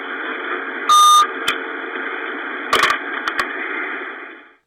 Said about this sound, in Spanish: Nuevamente oímos un pitido de otra baliza.